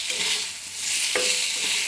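Boiled bitter gourd with turmeric and salt is stirred in a pan, a soft steady scraping and gentle sizzle with one sharper knock of the utensil midway; no voices.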